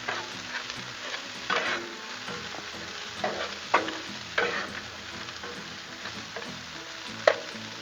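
Ingredients for a fiesta burger stirred and scraped around on a Blackstone griddle, with a steady close sizzle broken by several sharp spatula clacks and scrapes.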